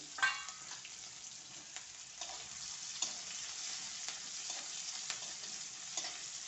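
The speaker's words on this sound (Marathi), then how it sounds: "मी एक मिरची आणि हा अर्धा कांदा चिरलेला आहे तो टाकूया" Chopped onion and a green chilli hit hot oil with mustard and cumin seeds in a pan, sizzling steadily with occasional stirring scrapes, close and moderately loud, with no voices.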